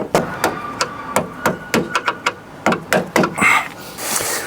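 A stainless steel door hinge bolt on a Land Rover Defender is tapped into place with about a dozen sharp metallic knocks in uneven bursts, close up, ending in a rustle of handling noise.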